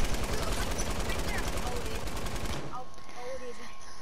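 Rapid, evenly spaced gunshots from a sniper rifle in a video game, loud and close for about two and a half seconds, then cutting off to quiet game ambience.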